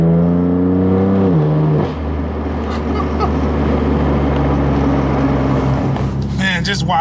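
A rare 2016 BMW M3 with S55 engine and straight-piped exhaust revving, rising and falling engine tones with a deep steady drone and turbo whistle, loud and close, with people talking over it near the end.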